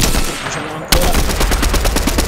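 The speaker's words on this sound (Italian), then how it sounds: "Spari proprio da dritto davanti a noi" Rapid bursts of automatic gunfire in the video game Fortnite, a dense rattling volley that starts abruptly about a second in and keeps going steadily; a voice speaks briefly over the start.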